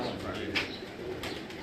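Kamgar pigeons coo softly on a rooftop, a faint, low, continuous murmur with a few brief flutters, heard from nearby amid quiet background noise.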